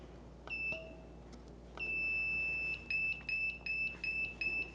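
An N20K48 temperature controller alarm beeping, first a few scattered short tones, then a long steady beep followed by a run of evenly spaced repeated beeps, clear and close against a quiet background.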